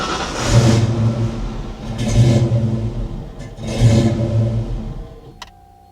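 A Ford Foxbody Mustang engine runs in anti-theft mode, revving up loudly three times in rising, swelling bursts over a steady idle, then cutting off with a click near the end.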